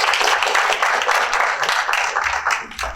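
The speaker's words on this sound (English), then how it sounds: "So let's all give a round of applause." Audience applause for an artist at a talk in a steel gallery: a dense, steady wash of many hands clapping close by for about three seconds, tapering slightly at the end, with no voices over it.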